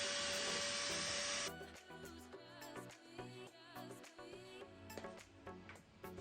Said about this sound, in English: First, I'm removing dust with a vacuum cleaner.